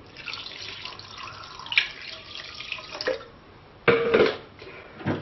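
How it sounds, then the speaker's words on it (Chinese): Clean water pours into a pot of shrimp for blanching, coming as intermittent splashing streams with a louder gush near the end and small knocks against the pot. "倒入清水"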